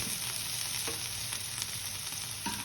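Tomatoes frying in butter in a pan for a masala omelette, a steady close sizzle with a few soft clicks of stirring and no talk.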